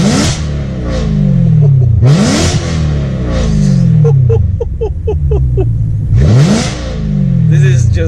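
A BMW E92 M3 with an Armytrix valved exhaust, valves open, revs hard several times, each loud rising howl dropping away with crackles and pops between blips, up close.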